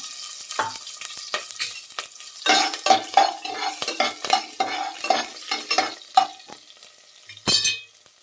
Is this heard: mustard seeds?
yes